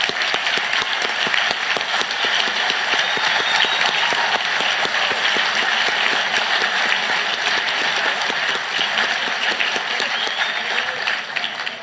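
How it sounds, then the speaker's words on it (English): Sustained audience applause at a Queensland Labor party conference, many hands clapping in a loud, dense, even roar that continues with little change for about twelve seconds. "Can you please stand up and give them a big round of applause?"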